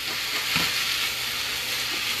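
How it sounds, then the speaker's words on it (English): Vegetables sauté in a hot pan with a steady, fairly quiet sizzle and hiss and a brief stir or scrape near the start, with no talking. "The vegetable sauteing"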